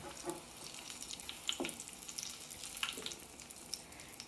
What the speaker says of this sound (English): Make sure you fry every side like I'm doing right here.